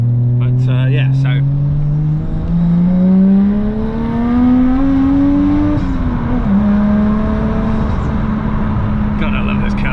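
A car's engine drones loudly from inside while driving, its tone climbing steadily then dropping and settling as gears change, with people talking over it.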